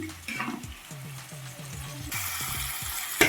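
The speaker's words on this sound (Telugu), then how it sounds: "పచ్చిమిర్చి ఇది కొంచెం వేయించుకున్న తర్వాత" Green chilies fry in a pan with a crackling sizzle and a run of quick scraping stirs. A louder, brighter hiss swells partway through and a sharp clink comes near the end.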